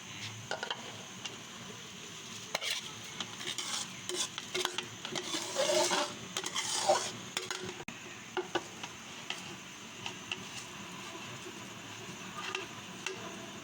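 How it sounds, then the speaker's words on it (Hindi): Rice tipped into a pot of boiling water for junglee pulao, a soft pouring rush with sizzling, bubbling hiss and light stirring scrapes, faint and close. "अब हम इसमें ऐड कर देते हैं चावल।"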